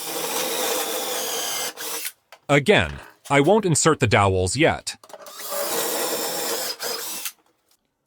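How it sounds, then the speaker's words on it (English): Drilling dowel holes through a doweling jig into wood, a steady power drill whine running for about two seconds, stopping for a spoken remark, then resuming for another two seconds, close and loud. "And I also drill a couple of holes."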